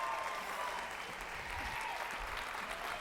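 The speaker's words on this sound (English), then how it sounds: "I want you to give a big round of applause to my dear friend, Yanira Cardona." Steady audience applause fills the whole stretch at a moderate, slightly distant level, a dense wash of many hands clapping with no talking over it.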